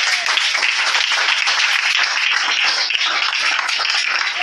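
A church congregation claps and cheers in loud, sustained, dense applause that continues steadily without letting up.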